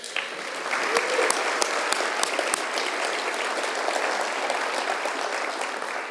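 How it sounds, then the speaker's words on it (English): At an opening ceremony, an audience gives a round of applause, many hands clapping steadily with a few loud close claps early, sustained at an even level to the end. "we can maybe give them a round of applause"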